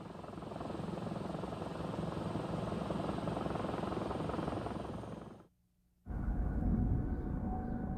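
An armed helicopter from the Vietnam War era, its rotor chopping loudly and steadily, cutting out briefly to near silence before the throbbing drone resumes even stronger.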